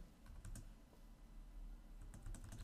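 A date is typed on a computer keyboard: soft, quick key clicks come in scattered bursts at low level over a steady background hum.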